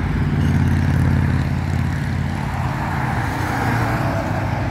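Steady, dense roar of cars and trucks in road traffic, a continuous low rumble close by with no breaks and no voices.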